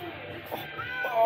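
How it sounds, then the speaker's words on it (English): A cat gives a short meow or two, fairly close, with quiet background noise and a voice present. "There's a cat here? Oh, there's a kitty?"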